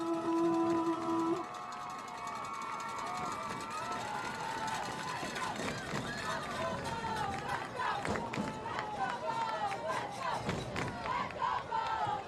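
A crowd at a high school varsity football game cheers and yells steadily in a large open stadium setting, with a public address announcer's voice ringing over the roar and a sustained horn-like tone at the start.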